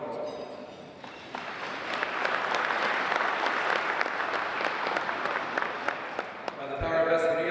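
A hall of fame induction audience at Hastings College gives a sustained round of clapping, many hands at once filling the room evenly for several seconds before it tapers toward the end.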